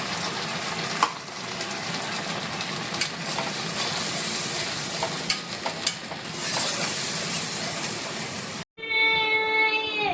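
Paste of cashew, poppy seed, chilli, ginger and garam masala sautéing in a pan, a continuous sizzle with occasional scraping clicks, cut off near the end by a sharp tonal electronic sound.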